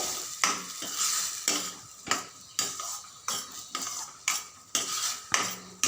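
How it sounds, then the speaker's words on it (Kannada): A metal plate lid lifted and clinked over a pot of mutton curry simmering and bubbling, with repeated sharp metallic taps and scrapes at a steady rhythm over a soft boiling sizzle, close and clear. "ಇವಾಗ ಪ್ಲೇಟ್ ಓಪನ್ ಮಾಡ್ತಾ ಇದ್ದೀನಿ ಇದು ಸ್ವಲ್ಪ ಕುದೀತಾ ಇದೆ"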